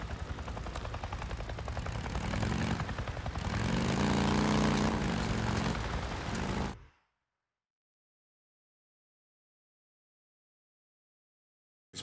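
Helicopter in the Days Gone video game, a steady droning rotor and engine hum with rhythmic beating, loud and swelling for about seven seconds before cutting abruptly to silence.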